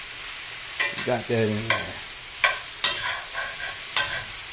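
Green beans, broccoli, peppers and wax beans stir-frying in a hot pan, a steady sizzle under repeated stirring clatter, with someone talking briefly over it.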